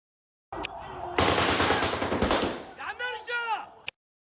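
A sustained burst of rapid automatic gunfire in a West Bank alley, loud and close, followed by shouting voices and a final sharp crack.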